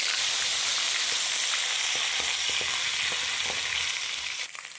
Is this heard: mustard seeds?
yes